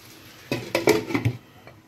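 A lid going onto a pan of potatoes and vegetables: a few quick metallic clinks and taps in under a second, close and fairly loud against a quiet kitchen.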